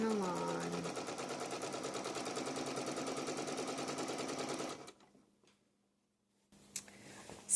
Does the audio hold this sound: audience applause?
no